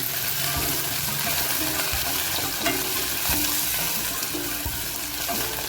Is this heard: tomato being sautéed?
yes